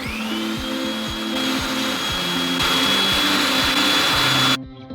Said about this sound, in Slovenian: Fižol, jajca, kokosovo maslo in kavo zmiksamo v multipraktiku do gladkega.